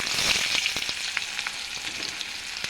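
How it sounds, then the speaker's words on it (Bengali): Onion drops into hot oil already holding cumin seeds and bay leaf, giving a bright continuous sizzle with a few stirring scrapes over it, near and fairly loud. "পেঁয়াজটা দিয়ে দিলাম তেলে।"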